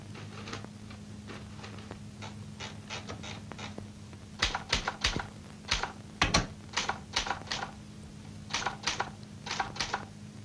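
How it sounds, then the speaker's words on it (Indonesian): Someone types a letter on a 1970s typewriter, the keys striking in quick irregular clusters separated by brief pauses, with a steady low hum underneath and no talking. "Ngetik suratnya."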